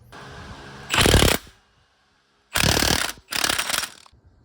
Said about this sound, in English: get that 24mm deep well socket, the Milwaukee 1/2 inch on full chooch, and let's go ahead and get this factory bolt out